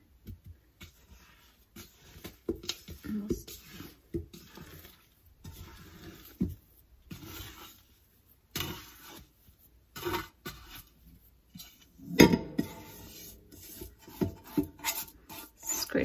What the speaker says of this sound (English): Scrape it all out.